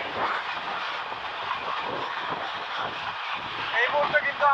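The Egarosindur Express passenger train runs on the Dhaka to Kishorganj route in Bangladesh, heard from on board as a loud, steady rumble of wheels and carriages with rising squeals toward the end.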